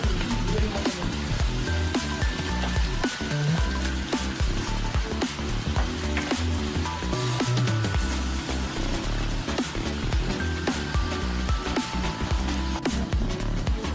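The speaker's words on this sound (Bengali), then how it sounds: "এবার এটাকে আমি একটু লাল করে ভেজে নেবো, পেঁয়াজের গন্ধটা দূর হওয়া পর্যন্ত আমি এটাকে ভেজে নেবো।" Onions fry in a pan, making a loud, continuous, rain-like sizzle that crackles steadily throughout.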